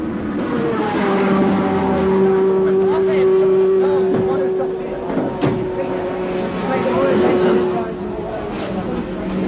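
Race cars at the 1960 24 Hours of Le Mans give a steady engine drone with pitch shifts as they pass through the evening running. They are mid-distance and continuous, with commentary speech over the top.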